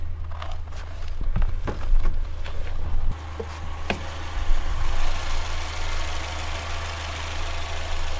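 A 2.3 liter engine with a Pulse Air injection system idles steadily in a rear-wheel-drive drift car, a low continuous hum with a few scattered clicks and knocks nearby.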